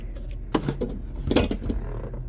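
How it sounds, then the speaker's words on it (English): A whisk clinks and taps against a bowl in short bursts while mixing milk with instant pudding, close and brisk, with no voices. "I've got a whisk."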